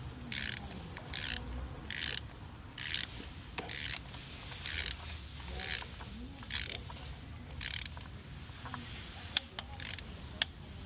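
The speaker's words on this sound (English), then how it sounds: "we're going to torque these spark plugs to 15 foot-pounds" A ratcheting torque wrench tightens spark plugs on a 2012–2017 Hyundai Accent, giving repeated short clicking bursts in a steady rhythm, up close and fairly quiet over faint background noise.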